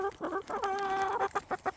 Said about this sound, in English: Orpington rooster, and then Taco is a black copper Morand.